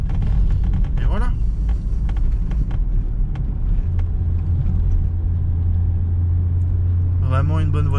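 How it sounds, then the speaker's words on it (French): An Audi A3 1.8T turbo engine idles with a steady low rumble that stays loud and continuous, while someone speaks over it for most of the stretch. "on fait refroidir le moteur et à la fin le turbo au moins 30 secondes, 1 minute avant de couper"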